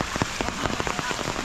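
Rain falls on an outdoor renovation site at a rural hut, a dense close patter with distinct heavier drops hitting surfaces in an irregular rhythm, no voices heard.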